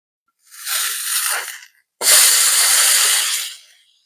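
Rolled flatbread fries in butter in a hot pan, producing two loud, close bursts of hissing sizzle, the second starting abruptly and fading after about a second and a half, with no voices.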